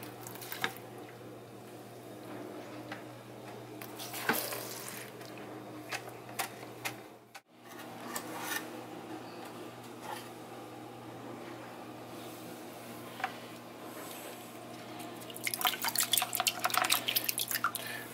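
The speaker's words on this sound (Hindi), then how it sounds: "इस बकेट में पानी ट्रांसफर हो रहा है।" Water from a fish tank is transferred into a bucket, heard as quiet irregular drips and small splashes that grow busier and louder toward the end.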